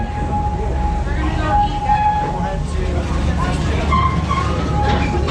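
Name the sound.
Serengeti Express train at Busch Gardens approaching station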